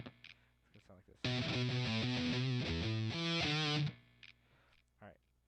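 Distorted electric guitar plays a riff, a run of sustained, effected notes ending on a held note shaken with vibrato, loud and alone in the middle, with brief talk and faint picking before and after.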